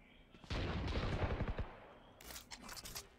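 Bursts of rapid gunfire in a Valorant esports match, a loud close volley followed by fainter scattered shots, with a caster's voice faintly beneath.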